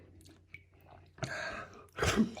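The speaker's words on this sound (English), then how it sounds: "Now let's hear me slurp." Two loud, wet slurping sucks of spicy Chinese noodles a moment apart, the second stronger, with faint clicks and quiet mouth sounds before them.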